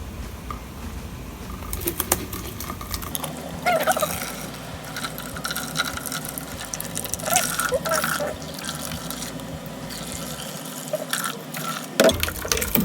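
Coconut milk being squeezed out of grated coconut by bare hands, heard as wet squelching, dripping and trickling liquid that continues throughout.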